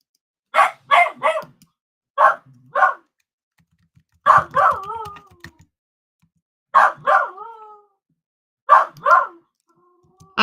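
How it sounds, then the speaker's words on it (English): A dog barks in short bursts of two or three, some drawn out into yelps, separated by quiet pauses, close and fairly loud. "I hope you guys really think it's nice to hear him barking"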